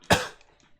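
One sharp, loud cough from a man close to the microphone, a single burst that trails off quickly into near silence.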